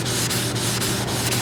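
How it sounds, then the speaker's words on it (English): Sandpaper rubbed by hand over a car's painted panel, a loud, continuous close-up scrubbing with steady back-and-forth strokes about every quarter second. "really get it sanded down to where you want it before moving to the next"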